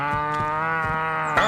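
A cow in the 2020 game Destroy All Humans! lets out a long, loud, close moo that fills the whole moment, ending with a brief higher sound.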